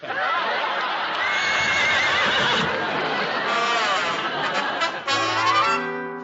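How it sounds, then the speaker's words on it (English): A horse neighs and whinnies loudly in a sitcom scene, a long rising and falling call lasting several seconds that ends in shorter snorting bursts, with no talk over it. "I wonder what's the matter with that darling horse"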